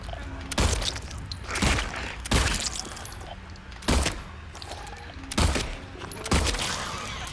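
Gunfire in the video game Silent Hill 2: six sharp, loud shots spaced roughly a second apart, each with a brief decaying tail over faint ambient background.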